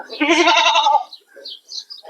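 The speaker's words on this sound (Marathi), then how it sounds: "हे आपले मोठी करड आहेत बघा साधारण तीन साडेतीन महिन्याचे" A three-to-four-month-old goat kid on a goat farm lets out one loud, wavering bleat up close, followed by a few fainter calls and brief talk.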